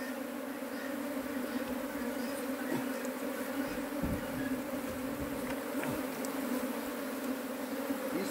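A captured bee swarm buzzing inside a hive box, a dense, steady hum of many bees that continues throughout, close and even, with occasional small knocks.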